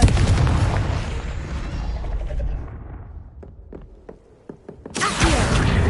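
Confringo spell blasts in a Harry Potter video game, loud booming explosions that die away into a few sharp cracks and pops, then a fresh broadband burst near the end.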